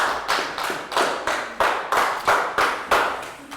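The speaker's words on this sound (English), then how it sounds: "Big round of applause for Bangpon." A primary school class clapping for a student, a close group of hands beating in unison in a steady rhythm of about ten sharp claps, with no talking.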